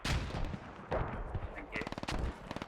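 Mortar impacts and rapid gunfire in the tactical shooter Squad, with loud bursts and a run of quick rhythmic shots, under faint voice chat.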